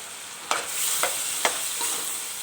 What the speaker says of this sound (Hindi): मंचूरियन वाला चिकन जो है वो मेरा कुक हो रहा है